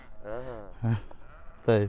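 Goats on a desert farm in Israel bleat three times in quick succession, close and loud, with a longer wavering cry first and two shorter calls after.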